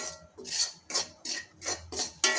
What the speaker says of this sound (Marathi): याला सारखं असं हलवत राहायचं भाजत असताना